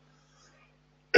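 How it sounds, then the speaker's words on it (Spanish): A single sharp, loud cough bursts out abruptly after a second of near silence with only a faint hum beneath. "tengo un poco de problemas hoy con la tos"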